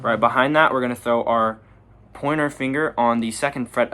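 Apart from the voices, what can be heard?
None of the usual background noises is heard.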